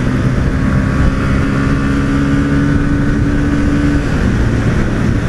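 A Honda CB300 motorcycle rounds a curve, its engine a steady, loud drone with a sustained low hum that stays constant throughout, close and continuous with no talk.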